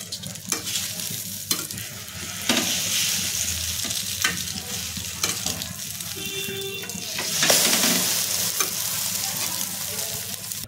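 An omelette fries on a hot pan under a lid, a soft, steady sizzle with scattered small pops and crackles, fairly quiet and close, with brief clinks in between.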